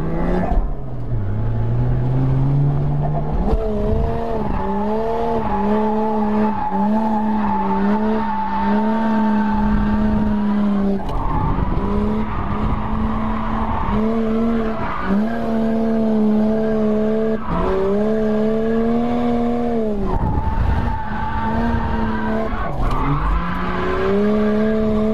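A car drifts with a long, loud tire squeal and a rising and falling engine note, smooth throttle rolls repeating in waves, close and sustained throughout.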